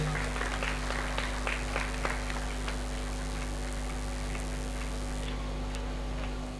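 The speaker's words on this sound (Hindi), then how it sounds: "तो आप सबकी भरपूर तालियों में मैं बिशप इंद्रियास रहमत साहब को दावत दूंगा" A congregation at an outdoor Catholic pilgrimage Mass welcomes a bishop with applause, a diffuse patter of clapping from a crowd spread at a distance over a steady hum, with no voices.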